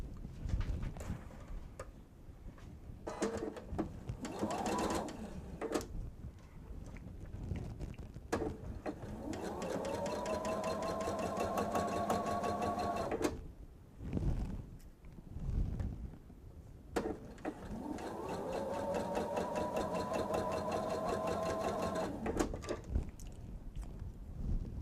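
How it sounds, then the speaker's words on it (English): A sewing machine stitches fabric for a bench pillow in two long, loud, steady runs of close whirring, with brief handling noises and pauses between them. "And now we're ready to sew."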